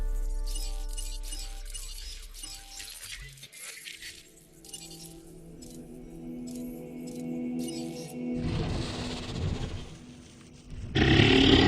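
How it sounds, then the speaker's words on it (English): A dinosaur in Jurassic World Evolution lets out a deep roar and grunting growls, rising and falling over several seconds against a game's layered ambient tones, ending with a louder burst. "every time you click on the dinosaur in the database, it makes its roar noise"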